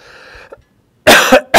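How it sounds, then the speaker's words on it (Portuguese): A person coughs in a sharp burst of loud, close coughs, following a faint stretch of other sound, with one more cough at the very end. "fala que eu tô tossindo"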